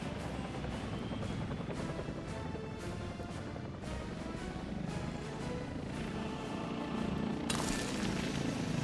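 A passenger helicopter used as a construction craft in the game Workers and Resources: Soviet Republic drones steadily with a dense rotor whir and rumble, moderately loud and constant, with a brief noisier burst near the end.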